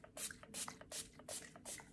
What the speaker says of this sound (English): I'm gonna spray this all with the Complex Culture Filter Out Daily Blue Light Defense Mist.